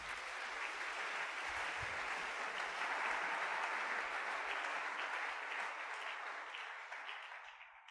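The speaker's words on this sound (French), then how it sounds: "Acclamons le Seigneur." A church congregation claps and cheers together in sustained, dense applause filling the room at a steady loudness, tapering off slightly toward the end with no talk over it.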